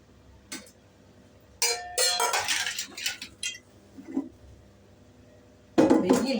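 Metal clatter and clinks from a lid set onto a mutton biryani pot on the stove, a couple of sharp knocks and rattles with a louder clang at the end, no talking.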